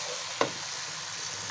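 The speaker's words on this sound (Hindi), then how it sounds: "इसको अच्छे से भून लेंगे" Masala for goat paya being fried in a pot, a steady broad sizzle with one sharp stir or clink of a spoon near the start, close and alone without any voices.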